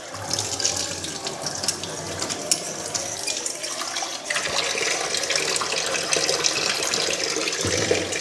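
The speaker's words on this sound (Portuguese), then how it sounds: "Joga um pouco de água aqui pra textura." Water runs from a tap into a sink in a steady, hissing stream, close and fairly loud, growing a little fuller partway through, with no voices.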